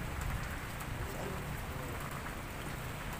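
Steady rain patters densely on a surface, a constant hiss of drops with no voices, soft and even throughout.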